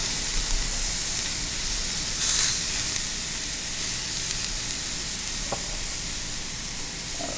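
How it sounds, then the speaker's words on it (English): Butter melting in a hot steak pan gives off a steady, broad sizzling hiss that runs unbroken from start to finish, with a few faint clinks and a brief brighter spray of spattering partway through. "Let's start melting some butter on there."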